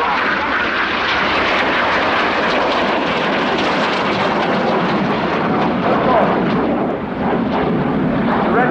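Royal Air Force Red Arrows aerobatic jets turn hard back toward the display line at an airshow, a loud continuous roar of jet engines filling the air with steady intensity throughout.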